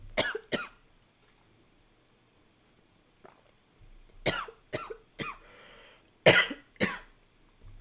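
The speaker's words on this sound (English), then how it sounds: "Just bear with me for a second while I clear my throat here." Several harsh coughs and throat clearings come in bursts, first a pair, then after a pause a cluster of rough hacks, close and fairly loud.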